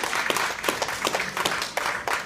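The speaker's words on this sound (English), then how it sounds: "Can I just get another round of applause for Julia?" Audience applause at a live cover song performance, dense steady clapping from a crowd that fills the whole stretch at a moderate, even level.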